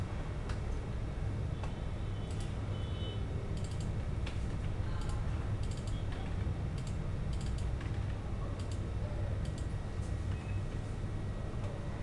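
Typing code on a computer keyboard during a C# programming lesson, a steady run of light key clicks over a constant low background hum, with no talking.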